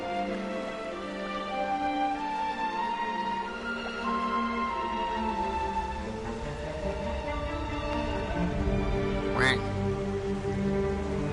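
Duck quacking in the underwater video game ABZÛ, set against a steady wash of ambient game sound and a music-like drone, with one sharp sweeping call near the end.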